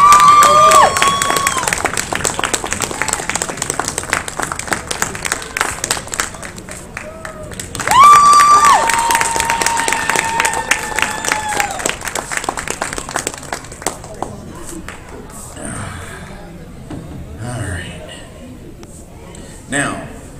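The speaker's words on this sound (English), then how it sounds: "Let's have a round of applause for these volunteers." Audience applause and cheering for volunteers at a convention hypnosis show, dense clapping with crowd noise and a loud voice over it, swelling again partway through before fading to scattered sounds.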